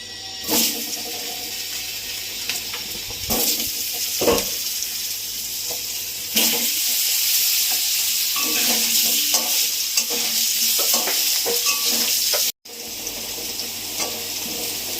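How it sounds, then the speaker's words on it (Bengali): Potato pieces fry in hot oil in a home kitchen, a continuous loud sizzle and hiss with occasional stirring scrapes and clatters throughout. "এবার এই তেলে আলুগুলো ভেজে নিচ্ছি।"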